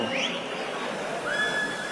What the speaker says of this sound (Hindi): बेटा ये सीटी अटक गई है कि मुंह से ही बजा रहे हो?